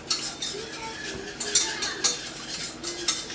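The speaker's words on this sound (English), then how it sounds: "You're going to whisk this up." Alfredo sauce for chicken fettuccine is whisked in a pan: quick, rhythmic metallic clicks and scrapes of a whisk against the pan, close and steady, with no talking.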